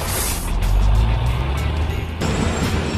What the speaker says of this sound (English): It is a concrete mixer truck.